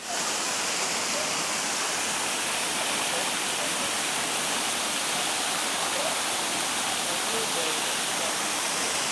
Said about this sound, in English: So, very nice waterfall here.